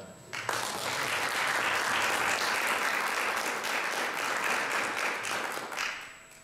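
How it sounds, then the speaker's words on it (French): An audience in an evening gathering hall breaks into sustained applause, starting abruptly and holding steady and dense for several seconds before tapering off near the end. "je vous demande tout simplement d'applaudir Ousmane Honoré pour le travail qu'il a fait jusque-là"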